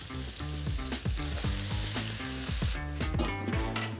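Cabbage goes into a hot wok with garlic and cooked meat for KL Hokkien mee, a loud rushing sizzle underneath a rapid, repetitive stirring and scraping rhythm that grows brighter near the end.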